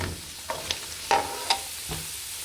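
Vegetables such as sweet corn stir-frying in a hot pan for Mauritian chicken fried rice, a soft steady sizzle broken by a few short scraping stirs and clinks close by.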